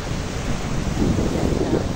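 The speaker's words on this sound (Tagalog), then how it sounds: "Yan na po ang dagat." Sea waves wash onto the shore at a beach resort in Mabini, Batangas, a steady broadband surf roar with gentle swells and some wind rumble, continuous and fairly loud with no voices.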